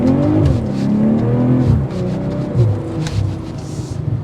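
A 2024 BMW M340i with 382 horsepower accelerates hard in Sport Plus mode, its engine rising in rising, falling harmonic sweeps as it pulls through gears, loud and close, with a slight tire squeal near the end.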